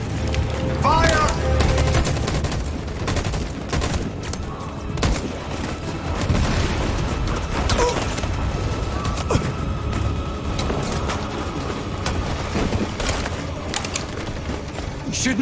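Volley of gunfire in the video game Detroit: Become Human, a dense, sustained barrage of shots and booms lasting throughout, loud and close, with shouting voices mixed in.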